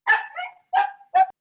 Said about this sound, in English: Your dog is yapping and maybe hungry or something.